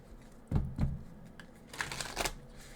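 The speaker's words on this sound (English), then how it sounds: "These cards shuffle so beautifully." Tarot cards are shuffled close up: two soft riffling bursts, a pause, then a longer flurry of papery flicks, quiet and alone.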